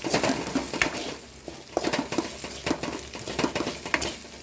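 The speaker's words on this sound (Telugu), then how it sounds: "అందులో కారం, ధనియాల పొడి వేసి కలబెట్టుకోండి" Okra frying in a pan as chili and coriander powder are stirred in, a steady crackling sizzle with repeated scraping and stirring strokes close up, with no voices.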